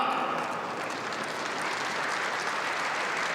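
Continuous clapping from a table tennis crowd at the 2015 German Open, dense and steady, with a faint murmur of a crowd beneath it.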